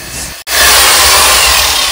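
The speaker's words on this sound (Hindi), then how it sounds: "ड्रिल गरम है, गरम है, ड्रिल ने वो छोड़ दिया, लेकिन हो तो गया छेद" A power drill bores a hole and runs loud and continuous at close range, with a brief cut-out before the whirring grind picks back up.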